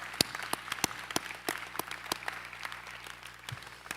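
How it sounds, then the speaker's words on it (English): Scattered, sparse applause at a university commencement ceremony at the Asia campus: a small number of distinct, sharp hand claps spaced irregularly, fairly faint and distant over a quiet room hum. "Let's give them all one more round of applause."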